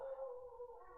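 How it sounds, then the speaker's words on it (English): A dog calls out in a park with a single faint, drawn-out, wavering howl-like bark lasting about a second, heard from a distance. "my dog is barking"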